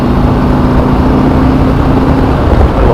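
A 2018 Harley-Davidson Road Glide Ultra motorcycle with its stock exhaust, its engine giving a steady, loud, deep droning rumble while riding, with no break and no talk.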